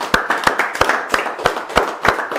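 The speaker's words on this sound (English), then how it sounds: "let's have a big round of applause" An audience at a magic show claps together in a steady rhythmic beat, sharp hand claps repeating about three times a second, close and fairly loud with no voices.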